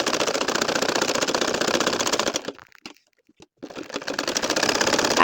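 A sewing machine stitches a small nakshi kantha quilt in a steady, close, rattling run, stopping briefly in the middle before starting again.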